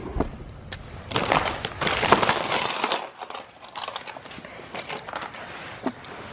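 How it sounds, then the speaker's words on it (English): Bag of bolts from a Curt tow hitch kit being handled during installation on a Chevy 3500 van: close metallic jingling and clinking of loose hardware, loudest early on, then softer rustling and scattered clicks. "we're going to get our bag of bolts here."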